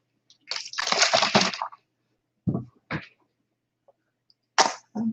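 Water sprays and splashes onto a section of natural hair in a long spritzing burst, followed by a few short squirts and splashes, close and fairly loud in a quiet room.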